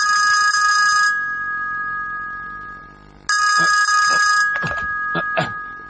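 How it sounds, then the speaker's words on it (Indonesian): Electronic telephone in an Indonesian-dubbed Doraemon cartoon rings in two bright trilling bursts separated by a pause, loud and close, with voices speaking briefly near the end. "Telepon itu pasti Jaiko yang menelpon."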